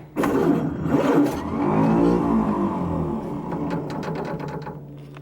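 A 1930 Ford Model A pickup engine, off the road since 1986, cranks and catches close by, firing into an uneven idle and revving a little before settling into a rough, sputtering run.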